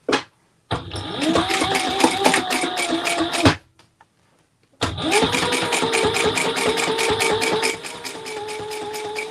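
A sewing machine top stitches a Cassiopia east-west bag in two close, fast-running bursts with a short pause between, each a rapid buzzing rattle at steady speed.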